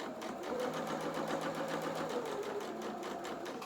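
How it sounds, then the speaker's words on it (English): A sewing machine hums steadily and close, rapidly stitching fabric pieces for a Christmas-themed Luna Lapin doll, the motor running continuously throughout with no talking. "I'm going to sew the other three on with those attached still and just keep on going"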